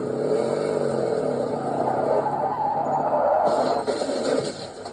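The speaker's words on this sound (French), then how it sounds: "Je crois que la voiture a freiné, mais un peu trop tard." A recorded car brakes too late and skids, a sustained tire screech with engine roar that carries on loud for several seconds before fading into a noisier wash.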